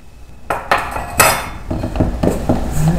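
A spoon mixing pizza dough with extra virgin olive oil in a bowl for a Dutch oven pizza, giving a run of sharp clanks and scrapes against the bowl that is loud, close and uneven in rhythm.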